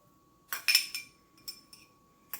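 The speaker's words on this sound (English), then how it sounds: "Now I'm going to add all of this beetroot to the bowl." Cooked beetroot pieces tipped into a salad bowl, giving a few short clinking knocks against the dish, close and fairly quiet, with a final tap after a pause.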